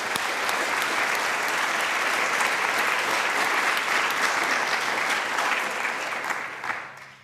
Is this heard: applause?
yes